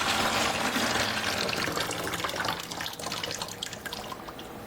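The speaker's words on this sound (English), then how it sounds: "I will dump out the water that's in there" Water poured out of the reservoir of an Odyssey Argos espresso machine, a steady splashing, trickling pour that stays close and fairly loud, then thins slightly toward the end, with no talking.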